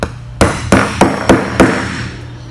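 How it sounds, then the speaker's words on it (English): Five sharp, evenly spaced hammer blows drive a hole punch through a shoe's outsole into a cutting board, each a loud close thwack with a short decay. "use a hammer to knock"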